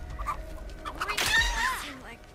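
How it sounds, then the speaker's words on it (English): A chicken clucks in a short, fairly close burst of squawking, with people talking in the background. "Where's that chicken?"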